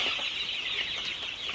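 Thirty-eight-day-old Sonali super hybrid chickens cluck on a farm in Faridpur over a constant bright hiss, with soft, irregular calls through a short stretch and no speech.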